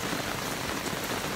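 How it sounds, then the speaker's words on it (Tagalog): Rain falls steadily at an outdoor farm wedding venue, a dense, even hiss of drops hitting surfaces close by, with no talking during the moment. "umuulan. Kaya ayun, ay di mag-antay tayo ng tila ng ulan."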